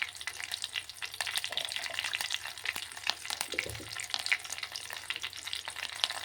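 Dried red chillies and curry leaves fry in hot oil, giving a steady bubbling crackle with scattered sharp spits and pops. The sound is close and moderately quiet, with no voices.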